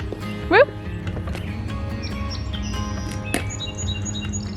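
Birds sing and chirp outdoors in the morning, a bright rising call near the start followed by scattered tweets and whistles over steady background noise.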